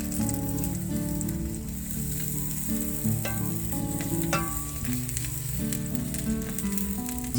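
Tomatoes for salsa sizzle and roast in a hot pan, a loud continuous crackle with occasional sharper spits, and no one talks over it.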